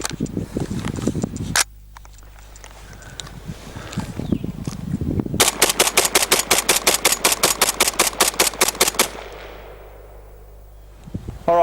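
A DSA SA58 rifle in 7.62x51 NATO, an FN FAL pattern, fires one loud shot, then after a pause rips off a rapid, evenly spaced string of about twenty shots, each ringing sharply with no voices.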